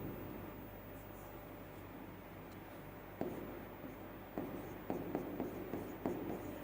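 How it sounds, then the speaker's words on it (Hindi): A marker writes on a board in a quiet room, producing a series of soft rubbing strokes and several sharper taps toward the end, with no voices. "ECTO लिख दे रहा हूं।"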